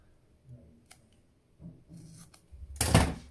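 Scissors snip the corners off a hair piece in a few quiet, scattered cuts, ending in one louder, sharper crunch of the blades.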